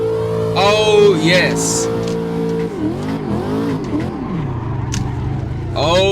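A Corvette C6 drifting around the NOLA circuit in the Assetto Corsa racing game, its simulated V8 holding a steady high drone, then swooping up and down through revs mid-slide, with a voice speaking briefly over the engine.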